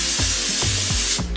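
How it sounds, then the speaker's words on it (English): Kryolan makeup fixing spray misted from a pump bottle in four quick hissing bursts, close and loud, each short spritz separated by brief pauses, with no talking. "while you're spraying your fixing spray"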